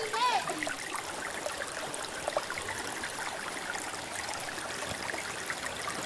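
A mountain river flows with a steady, broadband rush of water that stays even throughout, with a brief whistle-like tone near the start.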